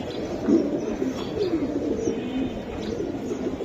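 Silver Giribaz racing pigeons coo in a continuous low murmur, close and moderately loud over a steady background hum.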